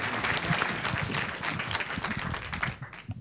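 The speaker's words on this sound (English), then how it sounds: "How about a round of applause for Robert?" An audience in a keynote hall claps steadily, a dense wash of many hands that holds for about three seconds and then thins out toward the end.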